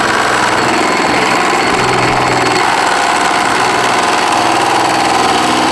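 Power drill boring through material for a homemade dust extractor build, a loud, steady, continuous grinding whir that holds at a constant level throughout with no talking.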